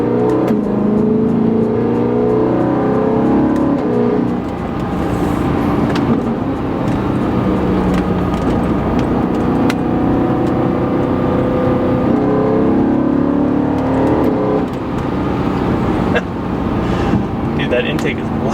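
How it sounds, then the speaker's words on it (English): A BMW E90 M3 with an upgraded intake and exhaust roars loudly from inside the cabin while driving, the intake note swelling and easing with the throttle, with a person talking over it. "That intake is loud. Intake is super loud."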